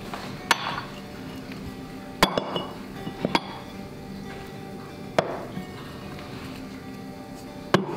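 A glass vase and a small jug are set down on a kitchen surface, making several sharp, separate clinks spread across a quiet room, close by, with no talk.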